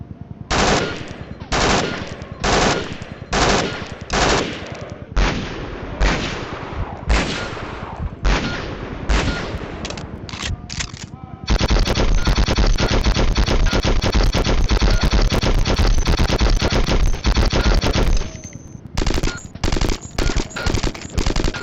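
Video game gunfire on a group firing range in Conflict: Desert Storm II, Back to Baghdad: repeated loud rifle bursts in a steady rhythm, then a long sustained volley of machine-gun fire before the short bursts return.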